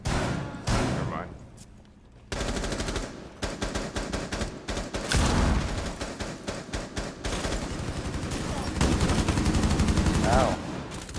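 Gunfire in the Rainbow Six Siege video game, bursts of rapid automatic shots and single cracks filling most of the stretch, loud and close, with players talking over it.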